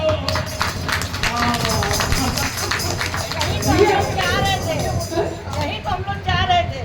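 A crowd at a Bhaktamal katha religious discourse in Patna claps steadily in a dense, rhythmic patter throughout, with a voice and murmuring heard over the clapping.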